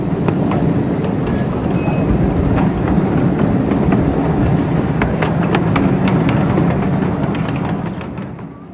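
A locomotive pulls a train along the track on a heritage railroad, giving a steady, loud rumble and clatter throughout with faint squeaks above it. It eases off slightly at the end.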